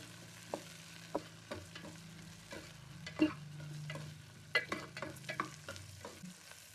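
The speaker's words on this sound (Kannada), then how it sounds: "ಮೆಣಸಿನ್ಕಾಯಿ, ಬೆಳ್ಳುಳ್ಳಿ, ಈರುಳ್ಳಿ ಹಾಕಿ ಒಂದು 2 ಮಿನಿಟ್ಸ್ ಸ್ವಲ್ಪ ಉಟ್ಕೋಬೇಕು." Chillies, garlic and onion frying in a pan for pappu saaru, with a soft sizzle under irregular spatula taps and scrapes and a low steady hum beneath.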